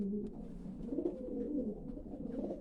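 A racing pigeon coos in low, rolling phrases, close and fairly quiet, with a faint background hum and no voices.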